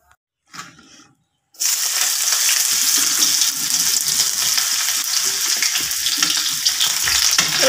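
Onions drop into a hot pan after a few faint clatters, then burst into a loud, continuous frying sizzle with crackling that keeps going to the end.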